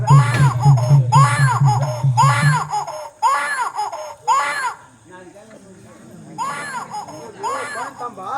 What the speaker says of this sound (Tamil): இங்க குழந்தை அழுகுறானா குழந்தை அழுகுறா